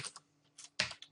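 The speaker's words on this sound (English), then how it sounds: "I'm going to type path" Keys on a computer keyboard tapped in a brief, close burst of a few quick clicks separated by short gaps.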